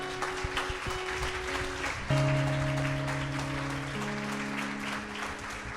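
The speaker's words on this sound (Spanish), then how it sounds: "Un gran aplauso al Señor." A church congregation applauds the Lord during worship, with steady clapping under sustained organ or keyboard chords that shift pitch partway through and ring on beneath the crowd.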